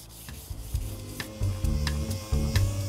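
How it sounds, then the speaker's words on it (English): Rhythmic rasping strokes of 240-grit sandpaper on a flat block rubbing against an Audi 100's body, repeating back and forth at a steady pace, close up with no talking. "sanding with a bit of 240 grit paper"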